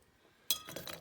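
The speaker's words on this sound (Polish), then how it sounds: "Umieszczam kilka kostek e, lodu w szklance." A single close, bright clink of an ice cube dropping into a glass, followed by a brief rattle as it settles, in a quiet kitchen.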